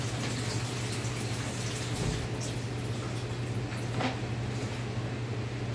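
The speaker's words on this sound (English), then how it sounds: "Just some regular cold faucet water." Cold water runs steadily from a faucet, a continuous broadband hiss that holds even and moderately loud throughout, with no voices.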